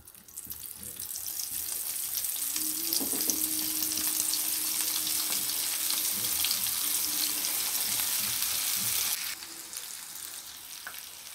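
Potato finger rolls deep fry in hot oil with a loud, steady sizzle that holds for about nine seconds, then quietens to a softer bubbling near the end.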